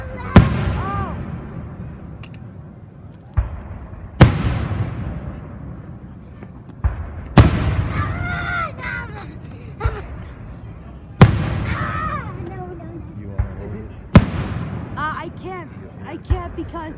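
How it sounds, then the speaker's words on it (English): July 3rd fireworks: six sharp, loud booms spaced a few seconds apart, each followed by crackling and a rolling echo, with people talking in between. "today we're gonna watch the July 3rd firework"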